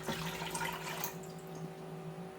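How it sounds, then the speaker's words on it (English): Room-temperature water is poured into a Ninja Foodi pot for sous vide, making a soft, continuous splashing pour that fades after about a second into a quiet hum. "Sous vide starts with 6 cups of room temperature water."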